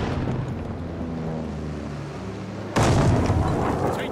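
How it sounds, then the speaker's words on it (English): A friendly bombing run in Call of Duty: Vanguard: a deep rumbling barrage of distant artillery-like blasts, then a sudden loud, close explosion that bursts in and roars on to the end. "Friendly bombing run on the way."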